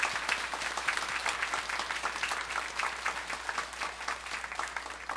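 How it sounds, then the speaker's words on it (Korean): A church congregation applauds the choir during a Sunday service, dense, steady clapping from many hands filling the room at an even level throughout. "우리 성가대가 점점 갈수록 더 귀한 찬양, 아버지께 영광 돌리는 찬양이 되는 성가대 되도록 여러분 한번 격려 박수를 부탁합니다."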